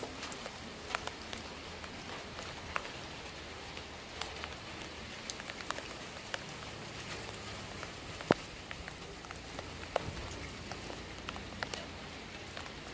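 Rain falls in a garden beside a house, a soft continuous patter with scattered sharper drips landing on surfaces, steady and fairly quiet throughout.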